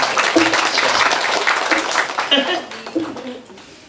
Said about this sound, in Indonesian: Tepuk tangan lagi dong.